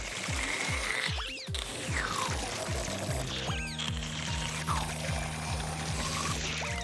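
A large amount of water sprays out in a continuous gushing, pouring rush with some mechanical clicking, with cartoon music playing throughout.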